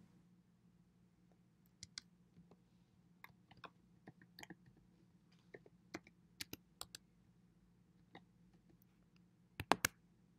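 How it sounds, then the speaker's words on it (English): Quiet, scattered key clicks from a Mac keyboard as a login password is typed, irregular single taps with a quick double burst near the end, close and alone over a low steady hum. "Type your login password."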